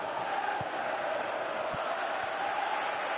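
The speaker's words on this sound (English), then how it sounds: "Crowd appreciates good football all round there" Football stadium crowd during a match, a steady broad roar of many voices and applause rolling on throughout, with a few faint thumps underneath.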